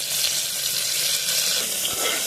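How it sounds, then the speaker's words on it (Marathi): Chopped onion and coriander sizzle steadily in hot oil, a constant crackling hiss close up with no voices. "कांदा थोडासा परतून घ्यायचा"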